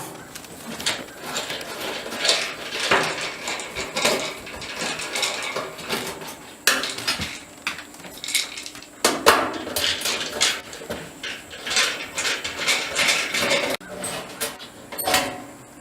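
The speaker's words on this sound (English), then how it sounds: "So let's take this heating element off." A heating element is being removed from an electric dryer with no heat, producing close, irregular metallic clanks, taps and rattles of sheet metal and parts handled throughout.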